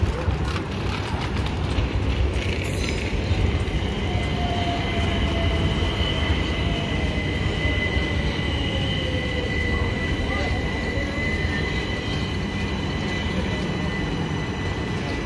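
Train running on a rail journey towards Portsmouth in England, a steady continuous rumble of wheels on track with a faint high whine, close and constant throughout.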